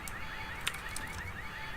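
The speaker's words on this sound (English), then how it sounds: "Alarm's not gonna make my life any easier." An alarm sounds in the Quantum Break video game, a repeating electronic wail that rises and falls at moderate volume, with a brief sharp clank partway through and no speech.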